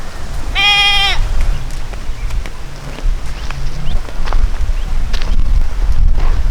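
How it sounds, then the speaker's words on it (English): Livestock bleat once loudly and close at a cattle drive through a Kenyan creekside village, a short series of pulsed cries over steady wind rumble and faint animal and ambient noise. "Yeah, the afternoon cattle drive."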